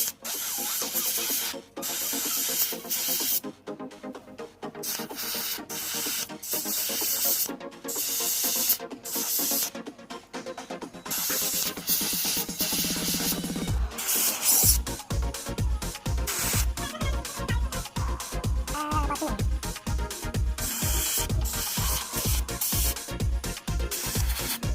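Airbrush spraying thick model paint onto a scale model canopy, a steady hiss with bursts of spray and the rhythmic pulsing of a small compressor running close by, no voices.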